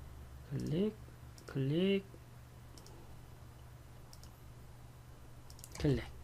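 Computer mouse clicking during CorelDRAW design work, a few faint isolated clicks between short bursts of a nearby voice speaking, over a low steady electrical hum.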